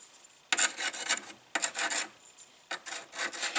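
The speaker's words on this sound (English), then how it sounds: "All this stone does is dress up that very edge a little bit" A sharpening stone is dressing the edge of a Woodmizer LT15 sawmill blade, heard as three separate rasping strokes about a second apart, each a dry, hissy scrape with brief pauses between.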